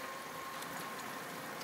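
An auto rickshaw engine idling steadily nearby, a continuous mid-pitched mechanical hum with slight vibration and no speech.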